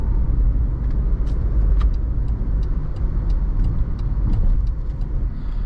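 A 2012 Jeep Liberty on the road, its engine and tire rumble loud and steady from inside the cabin, with a constant low drone and faint higher ticks over it.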